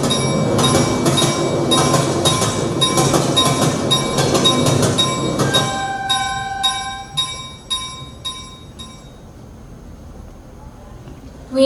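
Train effect staged during a one-act stage play: a loud, steady rumble of a passing train with clattering wheels and bell-like tones that fades after several seconds into quieter scattered clicks and squeals.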